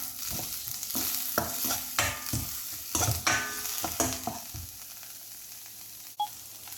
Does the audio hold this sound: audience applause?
no